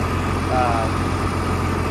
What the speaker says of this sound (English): It's a catback active exhaust, and the cats have been removed